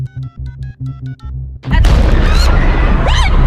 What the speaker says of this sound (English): A second explosion goes off.